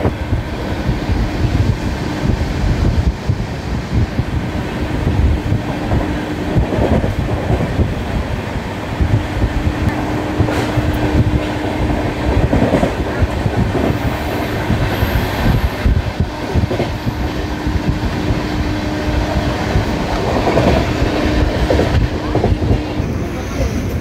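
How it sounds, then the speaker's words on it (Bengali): A train rumbles along the tracks on the Kolkata–Bhubaneswar route, approaching Kharagpur Junction, with steady clattering and wind buffeting the microphone, continuous throughout. "আমাদের ট্রেন এবার প্রবেশ করছে খড়গপুর জংশন স্টেশনে।"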